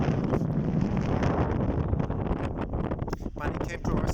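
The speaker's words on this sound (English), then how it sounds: "Directly in the wind, you feel the stream." Wind blowing hard into the microphone on the Costa Brava coast near a lighthouse, a loud, rough, continuous roar with gusty swells and a voice speaking faintly underneath.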